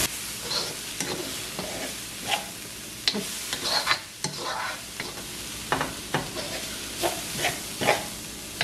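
Ponnanganni leaves fry in a pan over medium heat, giving a steady close sizzle broken by repeated scraping and stirring strokes at an irregular rhythm.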